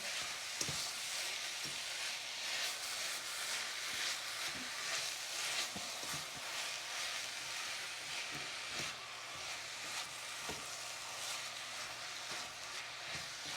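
Ground breakfast sausage frying in a pan for chili, a steady close sizzle throughout with occasional soft scraping taps as the meat is broken up, no talking.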